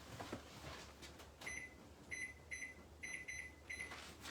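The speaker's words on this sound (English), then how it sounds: "I'm going to set my timer." A kitchen timer in a home kitchen chirps through a series of short, sharp electronic beeps, some single and some in quick pairs, fairly faint and close against a quiet background hum.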